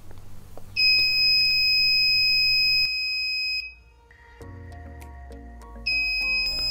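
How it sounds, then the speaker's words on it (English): Loud electronic alarm tones from a PIR motion sensor circuit's buzzer sound alone: a steady high-pitched beep holds for a few seconds, pauses, then returns with a shifting multi-tone electronic whine. "Whenever the PIR module feels some motion, the buzzer sounds and LED glows"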